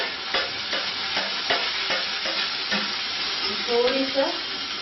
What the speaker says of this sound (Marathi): आता आपला कांदा छान फ्राय झालेला आहे। आता आपण ह्याच्यात टोमॅटो टाकूया।